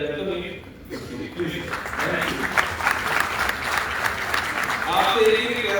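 A seated audience at a training program for doctors claps steadily and fairly loudly for several seconds. The sound is dense and continuous, with a brief lull near the start and a swell toward the end, and a voice talks over the applause.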